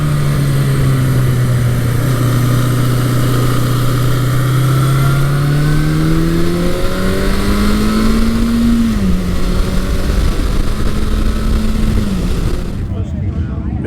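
A classic motorcycle rides out from the Ephrata Breakfast Ride show, its engine droning steadily and then revving upward through rising pitch sweeps over wind noise before cutting off.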